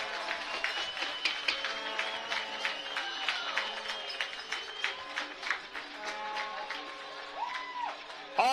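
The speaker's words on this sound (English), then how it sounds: "All the kids are using their noisemakers. They're clapping it around here." A youth crowd at an OFC final football game between St. Clair Saints and London Beefeaters claps and rattles handheld noisemakers, a steady dense clatter with whistle-like tones and cheering throughout.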